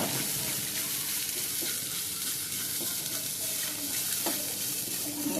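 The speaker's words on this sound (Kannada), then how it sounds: "ನಾನೀಗ ಇದಕ್ಕೆ ಸ್ವಲ್ಪ ಹಲ್ದಿ ಹಾಕಿ ತೆಂಗಿನಕಾಯಿಯನ್ನು ಫ್ರೈ ಮಾಡ್ತೀನಿ" Grated coconut with turmeric frying in ghee over high heat for Mangalore-style crab sukka: a dense, steady, close sizzle with faint stirring scrapes, no voices.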